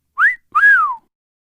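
A man whistles at a woman: two clear close wolf-whistle notes, a short rising chirp then a longer rising-and-falling sweep, alone in silence.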